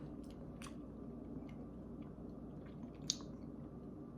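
A piece of Greek walnut cake is eaten up close, with soft, moist chewing and squishing sounds and a few faint clicks, quiet and without talking.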